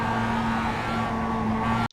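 In the iRacing video game, a Mazda MX-5 Cup car holds a steady engine drone while cornering at Laguna Seca, a buzzing tonal note that cuts off abruptly near the end.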